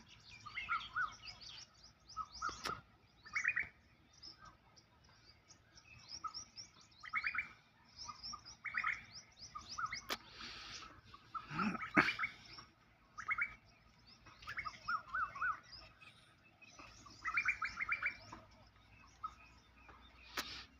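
Koel birds call repeatedly in short, bright bursts spaced a few seconds apart, fairly faint and somewhat distant against a quiet outdoor background.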